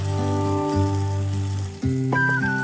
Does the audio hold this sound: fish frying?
yes